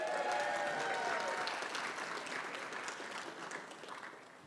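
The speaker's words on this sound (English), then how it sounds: "Applaud for these people." An audience at a State of the City event in West Sacramento applauds, a dense burst of clapping that starts loud and gradually thins and fades over a few seconds.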